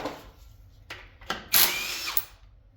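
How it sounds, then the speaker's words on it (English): A power tool whirs in a few short bursts, then one longer loud buzz of an impact wrench spinning out bolts on a scrapped SA200 welder, close up with no talking. "Now I'm just going to use the impact, buzz out the last couple here."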